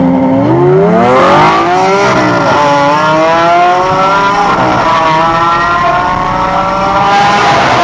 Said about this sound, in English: That is the most like ridiculously loud car ever.